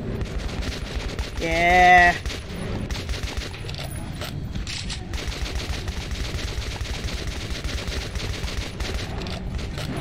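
AK rifle fire in the shooter game Metro 2033, a dense burst of rapid shots under continuous game noise and a voice talking over it.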